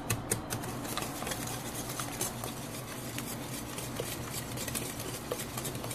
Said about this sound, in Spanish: Y todo esto lo vamos a batir hasta integrarlo bien.